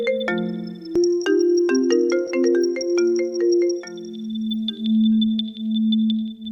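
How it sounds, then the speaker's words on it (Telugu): A phone ringtone plays as a bright melodic run of electronic tones, then settles into a repeating lower pulsing ring, loud and close with no talk. "శాలిని, ఇన్నిసార్లు కాల్ చేసి ఎందుకు దొబ్బుతున్నావు?"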